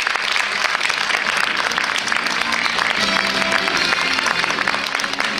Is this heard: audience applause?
yes